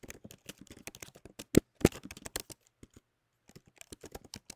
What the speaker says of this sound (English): So I can open this back up and type that title in there.